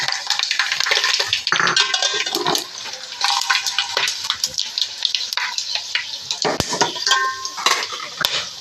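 Whole garam masala spices hit hot oil in a pan at an iftar cooking session, giving a loud, dense crackling sizzle with scattered sharp pops and utensil clinks throughout.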